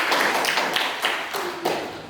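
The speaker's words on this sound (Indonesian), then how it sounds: "tepuk tangan dulu untuk kita semua" Students in a classroom clap together in a short burst of applause, a dense patter of hand claps with a few sharper accents, fairly close and loud, with no talk over it.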